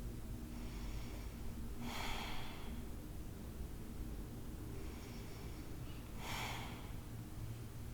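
Two slow, deep breaths during an Ashtanga yoga practice, each a soft airy whoosh close to the mic, a few seconds apart over a steady low room hum.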